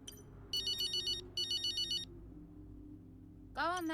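A phone rings in the video game F1 23 Braking Point, two quick electronic trilling bursts, clear but modest in level, followed by a voice starting to speak.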